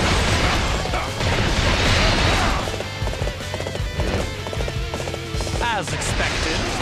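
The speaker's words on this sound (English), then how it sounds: "Get on the horse." Horse hooves clip-clop at a gallop in Dynasty Warriors 8: Xtreme Legends, over dense battle noise, game music and a whinny, with a rising whistle-like sweep near the end.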